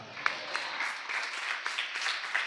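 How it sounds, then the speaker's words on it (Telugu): A church congregation at a Sunday sermon claps in a steady patter of many hands, moderately loud and continuous, with no voices over it. "చప్పట్లు కొట్టాలా?"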